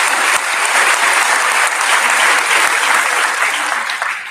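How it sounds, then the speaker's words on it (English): Audience at a middle school graduation ceremony giving a sustained round of applause, a thick continuous roar of many hands clapping that holds steady and tapers slightly at the end. "Can we give a round of applause to these people?"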